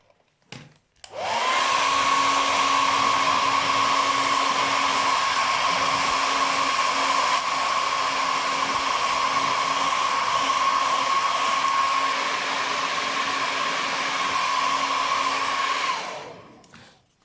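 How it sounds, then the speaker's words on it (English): A hair dryer blows steadily on freshly rinsed banknotes, a loud, constant whirring hum with a sustained whine, starting abruptly and running unbroken for about fifteen seconds before switching off. "You can use the dryer to dry them up."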